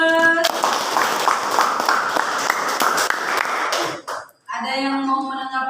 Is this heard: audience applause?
yes